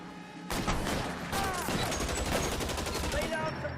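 Tommy gun bursts in the video game L.A. Noire, a steady rattle of rapid automatic fire that starts abruptly and carries on almost to the end, with other shots and game sounds mixed in.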